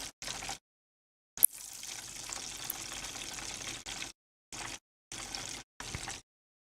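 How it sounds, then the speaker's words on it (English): Chicken pieces frying in hot oil for a homemade Chick-fil-A-style sandwich give off a faint, steady hiss and crackle, heard in short chopped bursts with one longer stretch and no talking. "Can you hear the frying?"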